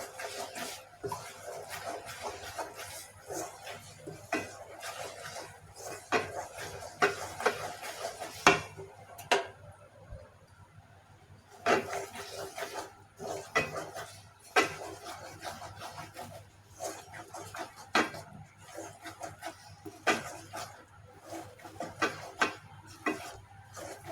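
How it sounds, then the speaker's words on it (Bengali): Coconut sweet mixture being stirred in a pan for coconut naru, with repeated scraping and clinking strokes in an irregular rhythm, close and moderately loud, with a brief quieter pause midway and no talking. "দেখুন আমি কিভাবে নাড়ছি, ভালোভাবে নেড়ে নিচ্ছি।"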